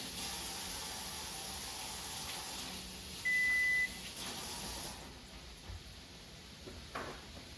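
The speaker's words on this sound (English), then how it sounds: "I'll rinse my hands here." Tap water runs steadily into a kitchen sink as hands are rinsed, a close, even hiss that thins out after a few seconds, with a short electronic beep sounding midway.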